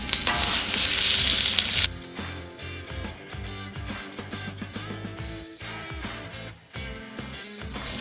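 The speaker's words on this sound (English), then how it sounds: "Now let's just throw on some chilies. Yes, sizzle." Hatch chiles sizzle and crackle in very hot oil, a loud, dense frying hiss that drops after a couple of seconds into steadier sizzling with clattering stirs and pan knocks.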